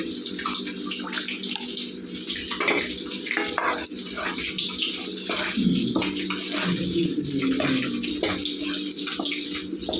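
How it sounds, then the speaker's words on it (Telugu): Tamarind water pours steadily into a pan of frying garlic egg curry, a continuous gushing splash that runs the whole time at close range. "ఇప్పుడు పులుసు వేసుకోవాలండి చింతపండు పులుసు వేసుకోవాలండి"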